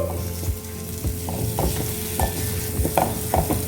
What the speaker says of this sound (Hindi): 2 टीस्पून जीरा पाउडर और सारी चीज़ों को अच्छे से मिक्स करके पका लेंगे।